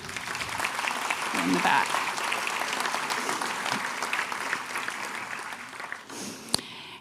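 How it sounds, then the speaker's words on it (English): A church audience at a medical breakfast gives the staff a steady round of applause that runs throughout, with a voice speaking briefly over the clapping. "let's give them a round of applause"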